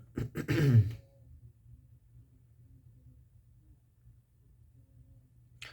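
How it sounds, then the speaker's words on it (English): A single person clears their throat in a short, harsh burst near the mic, then near-silence with a faint low hum in a quiet room. "I'm just going to clear my throat"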